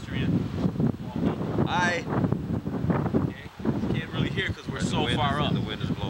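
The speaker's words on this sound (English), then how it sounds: "The wind is blowing." Outdoor wind along a Miami street with high-rise buildings makes a steady, loud rushing buffet across the microphone throughout, while people talk over it.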